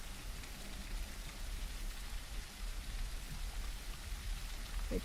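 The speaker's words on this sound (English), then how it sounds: "Rain makes it impossible to hunt things." Steady, dense rain hisses throughout a dinosaur video game, with a constant close wash of drops and no voices over it.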